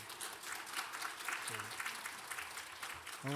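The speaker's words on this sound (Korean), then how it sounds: "우리 환영하면서 박수하십시다" A Korean church congregation applauds during a Sunday worship service, a soft, distant patter of many hands clapping, with brief voices breaking through now and then.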